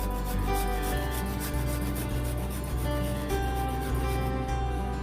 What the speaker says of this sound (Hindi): अभी मैं यहाँ पे अदरक जो लिया था मैंने वो घिस के थोड़ा सा डाल दूंगी